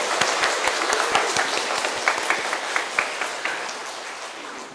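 A church congregation claps warmly to welcome a priest to a seminar at a Catholic parish, a dense steady round of many hands that slowly eases off toward the end.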